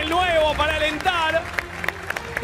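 Studio audience applause on a TV quiz show, a brief patter of clapping rising under a host's voice and a few overlapping speakers, close and moderately loud.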